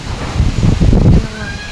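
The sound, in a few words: strong typhoon wind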